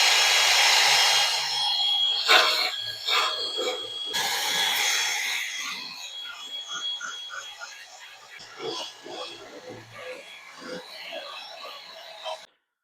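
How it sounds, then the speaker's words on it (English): A wire wheel grinds rust off the cowl panel of a 1979 Plymouth Volare wagon, a steady close whirring rasp that runs almost the whole time with brief dips as it touches and lifts from the metal. "Let's hit some of these spots of the wire wheel and see how much comes through."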